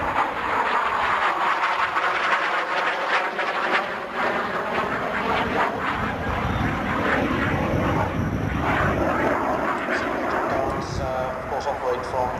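A Super Etendard jet flies past at the Fairford airshow, its engine a loud, sweeping roar that shifts in pitch as it passes, with a commentator talking over it throughout.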